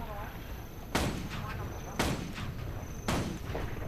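Three loud rifle shots from the video game Guild Wars 2 crack out about a second apart, each a sharp blast that trails into a brief echo over a low ambient game background.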